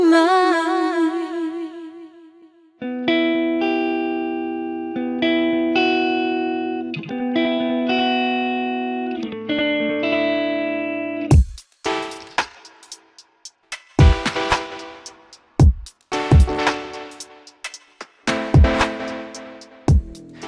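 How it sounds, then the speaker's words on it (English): Delay effect on synth tones, each note followed by echoing repetitions that trail off, first on sustained chords and then on sharp plucked hits with clear rhythmic repeats. "When blended with the original sound, delays typically produce echo-like repetitions."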